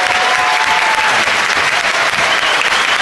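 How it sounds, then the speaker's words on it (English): A studio audience gives a round of applause after a talk, with loud, continuous, even clapping filling the room for about three seconds. "Could we give Paul Reeve a round of applause?"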